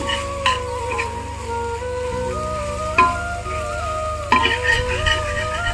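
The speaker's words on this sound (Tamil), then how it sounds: "ஸோ இப்படி போட்டுட்டு நல்லா வதக்கிக்கோங்க" Egg kothu parotta masala sautés in a pan with a soft steady sizzle, while a spatula stirs and taps against the metal a few times, music playing underneath.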